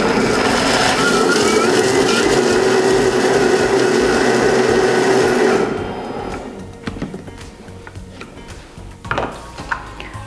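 COBBO kitchen food processor chopping greens for an egg sauce, a loud steady whirring motor run of about six seconds that cuts off abruptly, followed by quieter clatter and handling noises.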